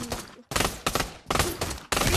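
Desert Eagle pistol fire in a video game, loud bursts of rapid shots in several close clusters separated by brief gaps.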